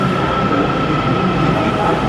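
DC Metro subway train arriving at a station, a loud close rumble with a steady whine over the rolling wheels, continuous through the short stretch.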